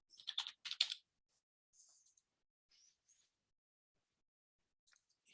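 A chart title being typed on a computer keyboard: a quick flurry of close keystrokes at first, then a few sparse, faint taps separated by quiet gaps.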